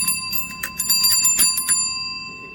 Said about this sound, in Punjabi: ਲੈ ਹੁਣ ਤੈਨੂੰ ਟੱਲੀ ਵੀ ਮਾਰ ਕੇ ਦਿਖਾ ਦਿੰਦੇ ਆ